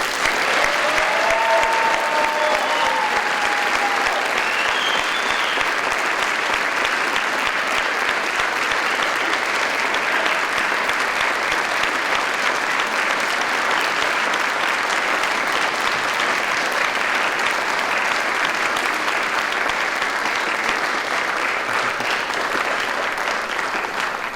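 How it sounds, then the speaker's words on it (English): A large concert audience applauds the Faribault High School Band senior class of 2025 at a spring band concert, steady dense clapping sustained for the whole stretch, with faint tones briefly audible early on. "Please join me in giving a well-deserved round of applause for the Faribault High School Band Senior Class of 2025"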